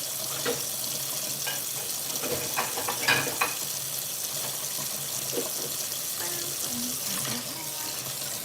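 Water runs steadily from a sink tap during dishwashing, a continuous hiss broken by clinks and clatters of dishes, with brief quiet speech.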